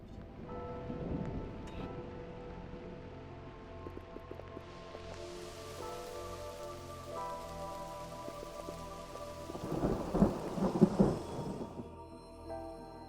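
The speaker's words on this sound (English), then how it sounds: "And there's our rain. I love the sound effect, by the way." Rain and thunder effects from the video game Mind Over Magic: a continuous patter of rain with low rolling thunder that swells into a loud, rumbling crash near the end.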